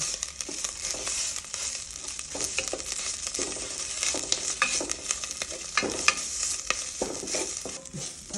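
Homemade pounded curry paste for a Thai jungle curry fries and sizzles in a pan, with steady close scraping and stirring strokes running throughout.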